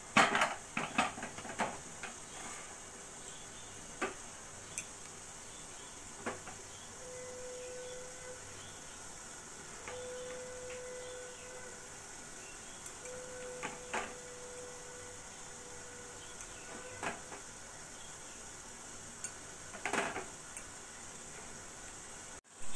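Vegetable momos set one by one into a steamer pot over boiling water, with sparse clinks and clatters of dishes and utensils at irregular intervals over a low kitchen hum, no talking.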